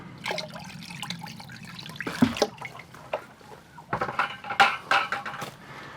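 Water trickles and splashes into a plastic yellowjacket wasp trap in short uneven pours, close by, with handling clatter between spurts and no talking.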